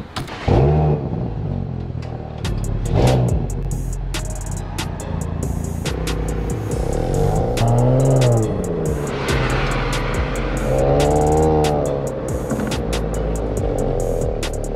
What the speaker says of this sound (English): we're gonna take this car on a test drive